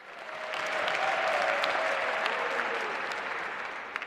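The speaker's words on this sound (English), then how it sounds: "May I ask that we please give them a very big round of applause." A crowd at the opening of the Africa Netball Cup in Swakopmund, Namibia, breaks into applause that swells to a full, sustained clapping and then slowly tapers, with a few cheers in the mix.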